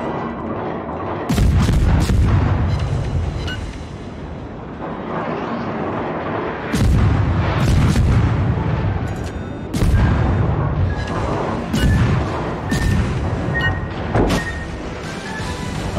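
Torpedoes strike a ship in World of Warships, giving loud, heavy booming explosions with crashing impacts that repeat several times over a steady rumbling background of battle noise.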